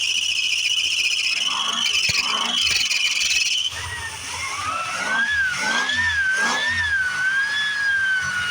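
A 1978 Dodge D-200 pickup, found forgotten with a formerly locked-up engine, roars loudly at first, then settles into an uneven running idle with rhythmic pulses and a wavering whine, close to the listener.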